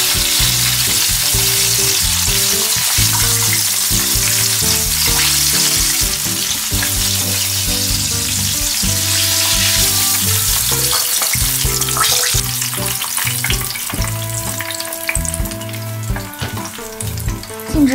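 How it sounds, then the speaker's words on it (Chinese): Chicken drumettes deep frying in hot oil, a loud, dense, continuous sizzle and bubbling crackle up close, with occasional stirring clatter and no voices. "小肉锤开始慢慢变装啦，炸至约5分钟左右变色后捞出"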